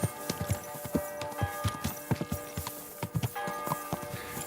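Horse hooves clip-clop at a steady walking rhythm in Kingdom Come Deliverance 2, close and distinct, with a faint ambient bed behind the footfalls and no talking.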